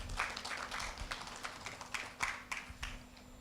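Students in a school hall clapping together, a scattered round of hand claps with distinct sharp strikes, moderately close and loud, with no talk over it.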